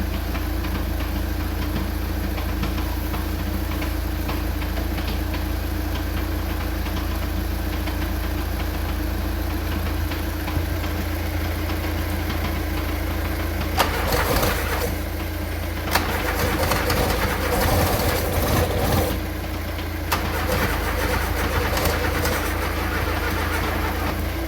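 A VW Golf Mk2 engine cranks steadily with a persistent mechanical drone, then briefly catches and fires on four cylinders for a split second during bursts of louder activity midway through, before settling back to cranking.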